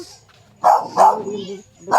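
A dog barks three times, close and loud, in short sharp bursts with brief pauses between them.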